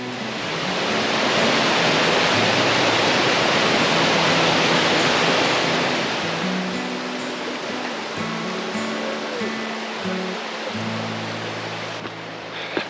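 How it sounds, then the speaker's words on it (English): A small creek tumbling over cascades and waterfalls along the Fiery Gizzard Trail in Tennessee, a loud, steady broadband rush of falling water close by, easing slightly in the second half. "Absolutely gorgeous down there in the little creek and all the cascades and waterfalls."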